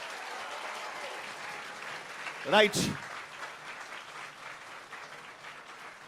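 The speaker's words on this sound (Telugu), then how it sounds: "వాళ్ళందరికీ కూడా ఒకసారి మీరంతా గట్టిగా చప్పట్లతోటి చెప్పండి." An audience applauds Indian scientists for the Chandrayaan-3 moon landing, with a short clapping burst in the middle over a low background hum and a single brief spoken word.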